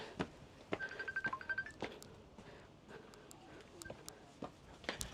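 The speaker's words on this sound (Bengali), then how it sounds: "শিট, কল আসতেছে।" An incoming call's ringtone on a mobile phone outdoors in a Hong Kong village, a short melodic run of tones sounding at moderate level amid clattering ambient noise and brief voices.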